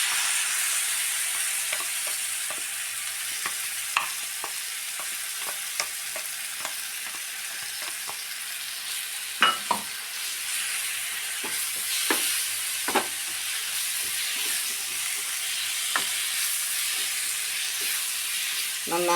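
Ground masala paste sizzling in a pan for chicken roast, stirred with a spoon that scrapes and taps at irregular intervals over a constant frying hiss, close up and uninterrupted.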